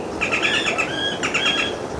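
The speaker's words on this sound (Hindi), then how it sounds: "सुबह सुबह ऐसी पक्षियों की चहचहाट सुनने को मिल जाए" Morning birdsong from small birds near a tree outside a mountain home, with clear, close chirps in quick repeated phrases and a short pause in the middle.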